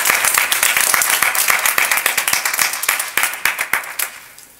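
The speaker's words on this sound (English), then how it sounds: "So let's give them another round of applause." A church congregation applauds together with dense, overlapping clapping that thins toward the end into separate, rhythmic individual claps, close and fairly loud.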